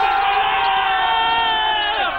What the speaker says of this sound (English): all I can enjoy here is the crowd and the craze and the madness which people have shown towards Rajnikant